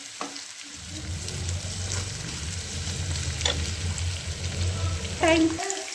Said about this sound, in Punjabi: ਪਿਆਜ਼ ਆਪਾਂ ਚੰਗੀ ਤਰ੍ਹਾਂ ਭੁੰਨ ਲੈਣੇ ਆਂਗੇ